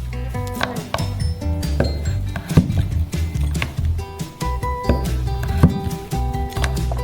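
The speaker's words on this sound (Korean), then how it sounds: "체다 치즈를 뜯어서 먼저 스트립으로 자른 다음" A knife slicing cheddar cheese into strips on a board, a run of sharp repeated cutting knocks and clinks close up, busy and uneven, with no talking.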